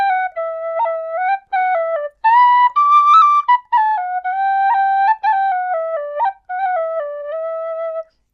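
A 3D-printed tin whistle played solo, a clear bright melody of separate tonal notes with short breaths between phrases, close and fairly loud.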